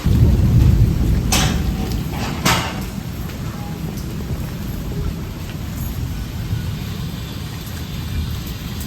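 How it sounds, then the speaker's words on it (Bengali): Heavy sudden rain pours steadily outside a house, a dense loud roar with low rumbling thunder at the start and a couple of sharp cracks early on, nearby and continuous without speech. "এখন হঠাৎ কি পরিমাণে বৃষ্টি শুরু হয়ে গেছে"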